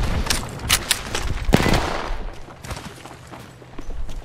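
Gunfire in the Apex Legends video game, with several rapid, sharp shots clustered at the start and a heavier burst partway through, continuing more sparsely under a busy battle backdrop.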